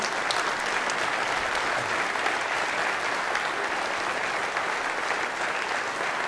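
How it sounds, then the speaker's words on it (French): Thunderous, even applause from a crowd at a final campaign rally, a dense unbroken wash of clapping lasting several seconds with no talk. "je vous demanderai de faire un tonnerre d'applaudissements à tous nos colistiers"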